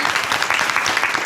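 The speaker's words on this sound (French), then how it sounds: "applaudissement" Short burst of dense audience applause: many hands clapping together at a steady, fairly loud level, with no talking over it.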